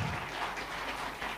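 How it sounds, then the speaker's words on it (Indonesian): Applause from an audience at a political gathering, a steady diffuse patter of many hands at moderate level, continuous and fairly distant-sounding throughout, with no voices on top. "tepuk tangan untuk Papi Zulkifli Hasan."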